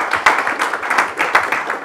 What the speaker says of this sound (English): And I would like to join you with a big clap and welcome to him from Mr. Karan Razdan.